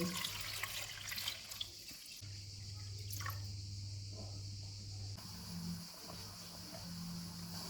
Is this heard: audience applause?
no